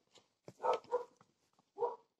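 A few sharp barks from a dog tied up outside, heard at a distance, two or three quick yaps, then a short gap and one more bark, all fairly faint and with no talking over them.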